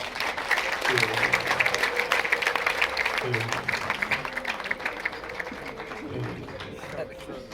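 An audience at a Rwandan dowry ceremony claps in a rapid, sustained patter, with a voice talking loudly over the applause as it swells and then thins out toward the end.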